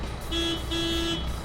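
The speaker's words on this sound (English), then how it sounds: "Check horn." A backhoe horn sounds in two short blasts, a steady tonal honk with a brief gap between them, loud and close over a low running engine.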